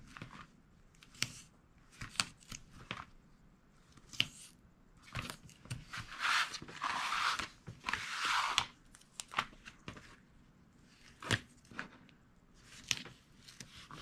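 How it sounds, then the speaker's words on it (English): Tape is handled and pressed onto the middle tab of a homemade wrapping-paper gift bag, giving close crinkles, sharp clicks and two longer rustling bursts of paper, with no talk. "now we can take tape and place it on this middle tab"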